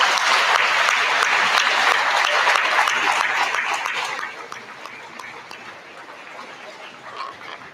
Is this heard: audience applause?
yes